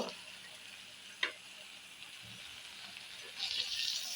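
Jackfruit seeds and bottle gourd greens are stirred in a pan over a quiet, steady sizzle, with a sharp utensil scrape and a few soft clinks, and the sizzle rises near the end.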